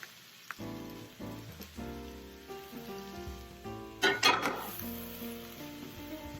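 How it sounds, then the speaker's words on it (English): Minced garlic sizzling in olive oil in a pot, a steady soft crackle with a few clinks of a utensil against the pot and a brief louder burst of frying partway through. "What I'm also going to add to that pot is 2 tablespoons of minced garlic."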